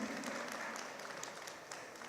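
Faint, steady applause from an audience at a gathering of the Ivorian diaspora in New York, a continuous soft patter of hands heard from a distance.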